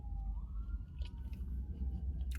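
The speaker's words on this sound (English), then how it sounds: "those sirens are distracting me" A siren wails steadily in the distance, its pitch slowly rising, over a low rumbling background with faint clicks.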